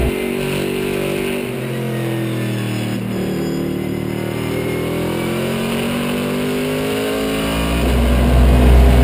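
A race car lapping the Mosport circuit, its engine loud and close, with rising and falling revs through gear changes and a hard surge of acceleration at the end.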